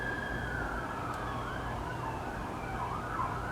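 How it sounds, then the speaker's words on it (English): Emergency sirens wail outside, a faint, distant rising-and-falling tone that drifts down in pitch as the vehicle passes, heard alone over quiet room background. "Sorry for the sirens."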